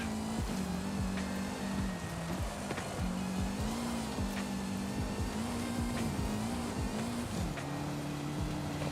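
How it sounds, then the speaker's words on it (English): Car engine in the racing video game Forza Horizon 5 drones steadily throughout, its pitch climbing and dropping through repeated gear shifts, loud and continuous with no speech. "I can actually hear the engine."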